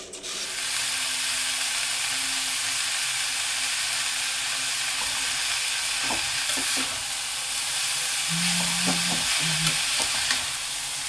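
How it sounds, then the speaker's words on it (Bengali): Overheated oil sizzles hard in a pan with shredded cabbage nearby, a continuous loud hiss broken by a few spoon scrapes and brief crackles toward the end. "তেলটা বেশি গরম হয়ে গেল"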